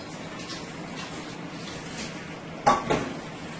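Four large chopped potatoes tumble into a simmering Guyanese chicken curry pot, a quick double clatter and thud against the metal over a faint background hiss of cooking.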